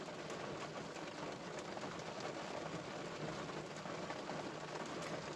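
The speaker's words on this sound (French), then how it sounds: "Je m'en doutais qu'il allait pleuvoir." Steady rain falls on a stormy day, a dense, even wash of drops on surfaces that holds at the same level throughout, close by with no voices.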